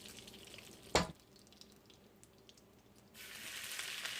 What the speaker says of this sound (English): I add my garlic and ginger that I shredded